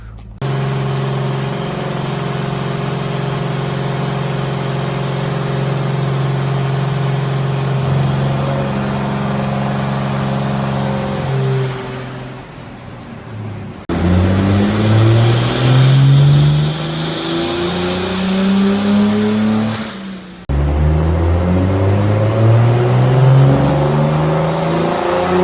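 Turbocharged BMW M52 straight-six in an E36 with an 8HP70 automatic, revving hard on a dyno during power pulls at about 1 bar of boost. The engine climbs loudly through rising sweeps, drops off, then pulls again, close and alone with no talk.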